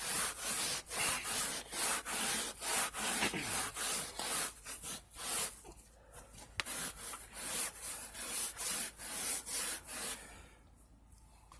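Carpet in an RV being scrubbed hard by hand, a steady run of rhythmic rough rubbing strokes close up, pausing briefly near the end.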